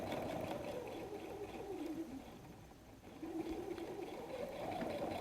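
Sewing machine running steadily while stitching a messenger bag pocket flap at a 3.0 stitch length, a continuous motor whir with a brief slowdown midway before picking up again.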